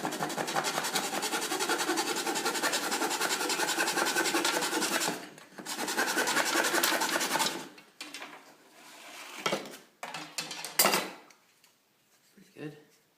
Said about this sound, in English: Then use your hacksaw to cut it off plumb.